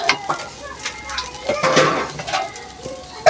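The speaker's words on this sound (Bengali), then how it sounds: "এবার ঢাকা দিয়ে ঢেকে দেব।" A lid clatters onto a metal cooking pot of fish curry with eggplant and taro simmering over a wood-fired stove, a few sharp knocks amid faint background voices and birds.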